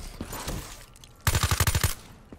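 The Weasel gun in a shooter video game fires a quick burst of about eight punchy, loud shots in rapid succession, following a quieter stretch of game noise.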